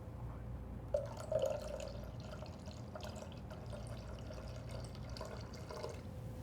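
Cider vinegar poured into a measuring cup, a faint liquid trickle with a couple of brief splashy bursts early on, then a quiet steady pour under low room noise.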